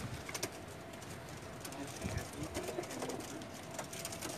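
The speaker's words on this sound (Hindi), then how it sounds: "कुछ ये बाजियों में उड़ने वाले कबूतर हैं" Flying pigeons kept for racing competitions coo softly in a loft, low murmuring calls repeating over faint background noise, with some quiet voices nearby.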